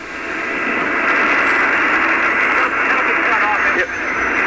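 A loud, steady roar of airliner jet engines at an airport on the ground, a continuous broadband rush with a faint high whine running over it.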